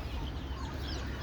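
Chickens cluck in a hen house, a short, soft burst of muffled fowl sounds over a low, constant background hum.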